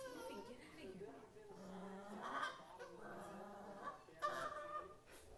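A puppy gives short, goose-like honks, several separate bursts that sound faint and close, with people talking quietly around them.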